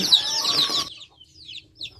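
Chickens cluck briefly and close by, a short dense burst of bird calls followed by a few fainter scattered clucks.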